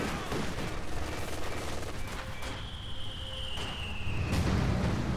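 Mortar blasts and gunfire in Company of Heroes 2, steady dense crackle of distant shots with a whistling tone midway and a heavier boom near the end.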